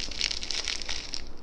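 Crispy crackers with seasoning from salted egg yolk fried noodles being crunched, a close run of dry crackling bites and crinkles, fairly soft, with no speech over it.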